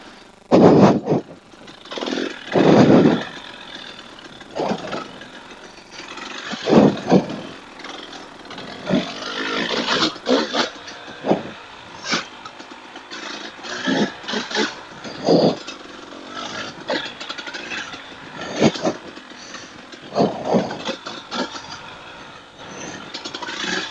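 A KTM 300 TPI two-stroke dirt bike ridden on wooded single-track, its engine rising and falling in repeated throttle blips and revs. It is loud and close throughout.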